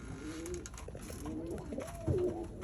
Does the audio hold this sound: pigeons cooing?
yes